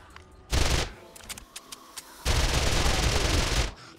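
Rapid automatic gunfire from a weapon in the video game 7 Days to Die during a horde night, two sustained loud bursts separated by a few scattered single shots.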